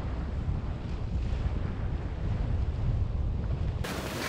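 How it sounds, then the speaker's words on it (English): Wind at sea on a small sailing boat in 18-knot gusty conditions with swell and chop, a loud continuous rushing buffet against the microphone mixed with water wash, surging briefly brighter near the end. "We've got 18 knots of wind on the port quarter,"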